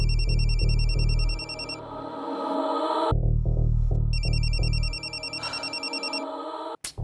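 A telephone ringtone rings out loud and close in repeated electronic trills, pausing briefly and then resuming, with a low tonal hum underneath.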